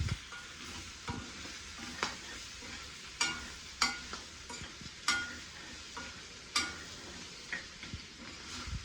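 A tomato curry cooking in a pan hisses with a low, continuous sizzle, broken by a spoon scraping and tapping against the pan in irregular strokes every second or so, close by and without speech.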